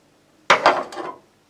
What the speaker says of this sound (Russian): Вот у меня алюминиевый ковшик.